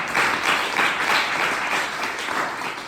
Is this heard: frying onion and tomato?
no